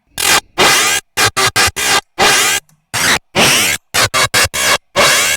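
Harsh, heavily distorted hardstyle screech synths made in FL Studio 20 fire in short rhythmic stabs separated by silent gaps, loud and gritty.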